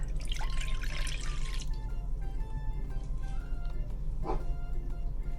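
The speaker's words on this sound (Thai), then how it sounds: "ก่อนอื่นนะคะเทน้ำใส่หม้อเลยค่ะ" Water is poured into a cooking pot in a kitchen before agar jelly is made, a bright splashing stream for the first second and a half, followed by softer drips and a faint trickle.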